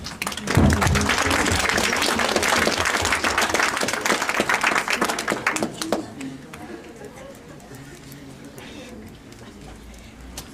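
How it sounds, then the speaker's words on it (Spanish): Audience applause greeting a guest lecturer who has just arrived at a psychology event. Dense, loud clapping fills the first six seconds, then thins to scattered claps and quieter room noise. "Un aplauso para él, por favor."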